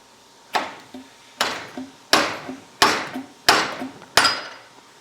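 A Harley FXLRST 43mm inverted fork leg is struck about six times in a steady rhythm to free the press-fit seal and bushing, each sharp metallic knock followed by a faint rebound tap.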